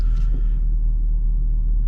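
A 1964 Chevrolet Impala that has not been driven in a while rolls along with a steady, close, low engine rumble and road drone and no voices.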